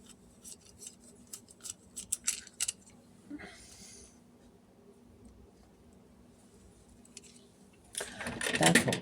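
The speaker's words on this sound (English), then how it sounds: "Let's just cut another piece of silver silk." Scissors snipping a piece of silver silk for earring repair, a run of quick close crisp cuts early on, then a quieter stretch and a louder burst of rustling and cutting at the end.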